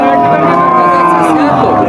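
A cow at a busy rural cattle market near Satmile moos loudly and close by, one sustained, drawn-out low call filling the whole moment.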